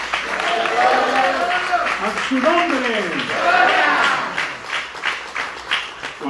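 A church congregation applauds loudly and steadily for several seconds, a dense crowd clapping that swells and ebbs while a preacher's voice carries over it.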